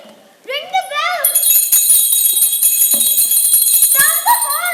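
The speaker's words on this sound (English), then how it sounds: "Ring the bell." A bell rings at a children's school annual play, a bright sustained ringing that runs through most of the moment while children's voices speak and sing over it.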